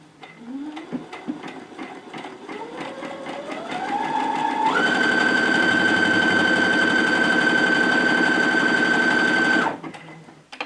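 A sewing machine set to stitch number 8 with foot J whirs up gradually in pitch, then holds a loud, steady, high-speed run for about five seconds before cutting off abruptly.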